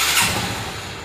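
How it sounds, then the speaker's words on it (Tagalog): A Honda XRM 125 carbureted motorcycle engine starts and settles into a steady close idle, a dense broadband running rumble throughout. "Start natin yung motor."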